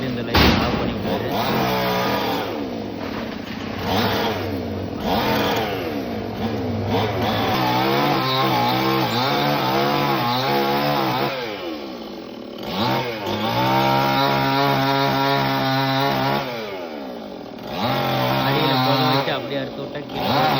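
A chainsaw cuts a tree into pieces during a tree-cutting service job in Coimbatore, its engine rising and falling through the cuts in a loud, continuous stretch, with voices talking over it.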